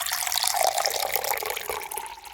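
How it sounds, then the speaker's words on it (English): Water pours into a glass in a steady, bright splashing stream, close and fairly loud throughout, with no voices. "Sound number 2 was water being poured into a glass."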